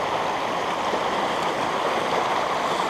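Small creeks of water run down a hillside near a lake, a steady, full rushing and burbling wash with no pauses and no voices.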